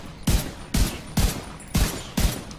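Rifle fire in the video game The Division 2: five single heavy shots, evenly spaced about half a second apart, loud and close, with no talk.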